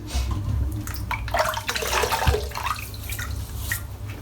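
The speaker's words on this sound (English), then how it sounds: "Nice splash of cold water." Cold water splashes during a wet shave, with a run of irregular wet splashes and trickling at close range, steady and fairly loud, with no talking.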